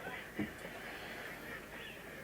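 Geese honking at night over a hunting hide in the Sambre valley during migration, faint and distant calls, one brief clearer honk early, over a quiet background hiss.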